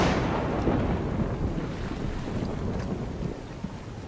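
Low, rolling thunder from a stormy scene in the video game God of War, a broad sustained rumble with wind-like noise lasting the whole stretch at steady loudness, no voices.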